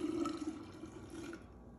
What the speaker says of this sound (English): So I'm gonna pour this in.